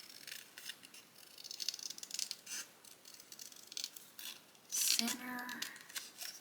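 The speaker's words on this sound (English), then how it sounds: "I'm going to cut this out and make it a little" Scissors snip through a long paper strip in a handful of short, close cuts, with a quiet voice speaking briefly near the end.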